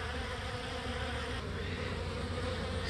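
Honey bees swarm around a hive in a close, continuous buzzing drone that stays even and steady throughout, with no other sounds.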